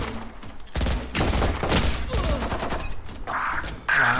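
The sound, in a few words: gunfire in the video game Valorant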